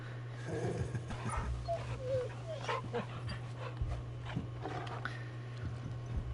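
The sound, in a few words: puppy dog sounds in Final Fantasy XVI video game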